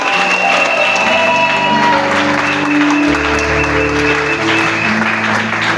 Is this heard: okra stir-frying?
no